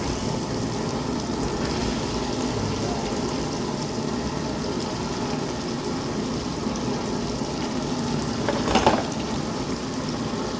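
Meat is added to a pan of cooked tomatoes and fries with a steady, close bubbling sizzle that continues evenly throughout, with a brief clatter near the end and no talk.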